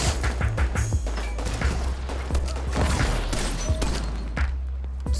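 Gunfire from The Division 2 rattles out in quick bursts of sharp cracks and thuds over a low rumble, with dense clustered shots and a brief lull before more impacts.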